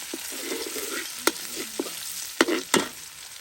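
Garlic sizzles in a hot pot as it is stir-fried, a steady frying hiss broken by several sharp utensil clinks and scrapes.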